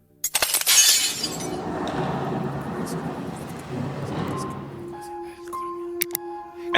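Glass shatters loudly as teenagers and urban explorers break into an alley building slated for demolition, a sharp crash followed by scattered tinkling debris settling over several seconds, with faint clinks near the end.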